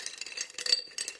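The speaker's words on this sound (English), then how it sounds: "Sorry about the noise again. I've got my pencils in a jar." Coloured pencils rattling and clinking against each other in a jar, a short quiet jumble of light wooden clatter close by.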